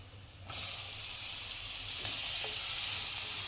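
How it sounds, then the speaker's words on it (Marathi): Garlic and mixed vegetables sizzle hard in a hot pan for jowar (sorghum) noodles, a steady bright hiss that jumps louder as more go in, with a faint stir or clink partway through. "लसूण ॲड केल्यावर त्याच्यामध्ये आपण सगळ्या भाज्या घालून घेणार आहोत"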